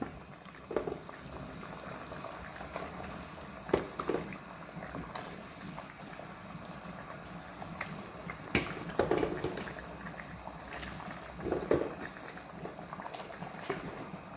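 A pot of mackerel fish curry boils gently, with soft continuous bubbling and occasional louder pops and spits, fairly quiet and without talk.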